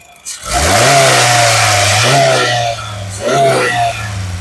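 A 2019 Honda City ZX car engine revs up from idle with the accelerator pressed, rising sharply, holding, then easing off before two more short throttle blips, loud and close.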